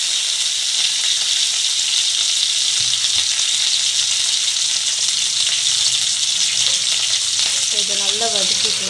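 Onions, curry leaves and green chillies sauté in hot oil, a loud, continuous close sizzle running unbroken throughout, with faint stirring scrapes near the end.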